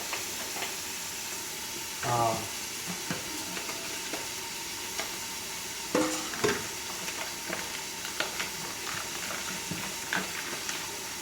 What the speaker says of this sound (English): it's in a sear mode. So I'm going to sear it on each side a little fast.